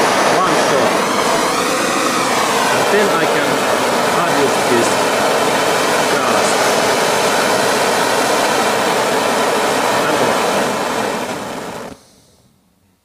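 A Sievert piezo gas torch burns with a steady, loud roaring flame for about twelve seconds before cutting off abruptly, while someone speaks over it.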